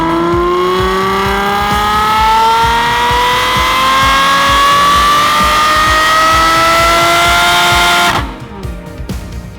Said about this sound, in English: I did a dyno run recently. If you haven't seen it already, here's a clip.